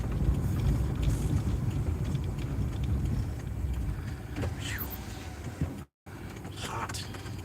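Toyota Corolla driving, a steady low road and engine rumble heard from inside the car with a brief dropout near the end and some faint rattles.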